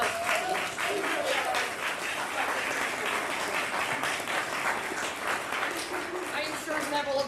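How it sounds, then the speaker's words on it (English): Audience applause for lecturers at a university homecoming lecture event at Kansas Wesleyan, steady dense clapping sustained throughout at even loudness with no pauses. "give these guys a round of applause."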